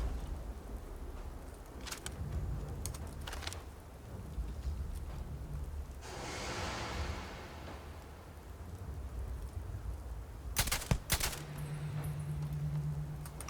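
Enemy gunfire in the Starfield video game comes as scattered sharp bursts from several directions, one heavy volley of shots late on, over a rumbling ambient backdrop, with no talking.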